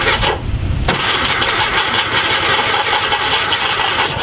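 Starter cranking a 32-year-dormant Volkswagen Thing Type 181 engine, a loud, steady churning drone held for about four seconds after a brief quieter start, with no catch into running.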